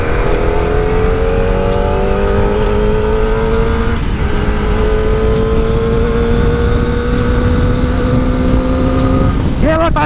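A Kawasaki ZX25R motorcycle accelerates hard through its gears on a test ride, a loud, close, high-pitched inline-four whine climbing in pitch with shifts, and a sharp rev rise near the end.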